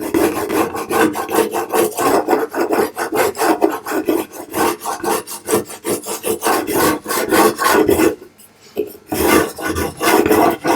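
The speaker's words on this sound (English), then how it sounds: "Now I'm going to burnish it down." A vinyl decal on a fireworks sign is burnished down firmly, making loud rhythmic rasping strokes in quick succession with a brief pause near the end, and no voices.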